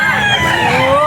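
A Gilmore Hatch gamefowl rooster crows loudly and close on a gamefarm, one sustained drawn-out call with other birds and faint voices in the background.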